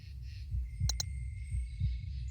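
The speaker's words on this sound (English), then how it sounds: "you can hear the heartbeat now" A low, muffled heartbeat thumps in the survival horror video game Heartworm, steady paired beats close and quiet over a faint hum, with a brief high chime partway through.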